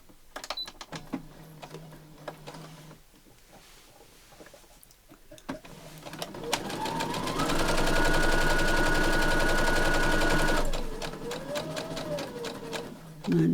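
A sewing machine stitches patchwork for a tablet pouch, starting with scattered handling clicks, then running in a loud, steady, fast mechanical whir for several seconds before slowing and stopping with a few reverse stitches.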